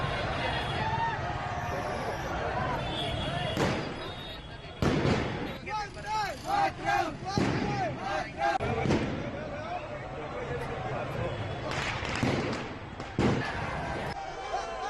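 Firecrackers bursting in a street celebration of India's cricket victory over Australia, heard as repeated sharp cracks and pops over a noisy crowd with cheering and chatter, with denser bursts in the middle and toward the end.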